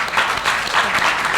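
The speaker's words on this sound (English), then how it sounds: "A big hand clap to URA." An audience at an award ceremony applauds, a dense burst of many hands clapping together, loud and sustained throughout.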